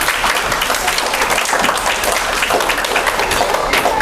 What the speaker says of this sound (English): Please give yourselves a big round of applause for being such a good audience.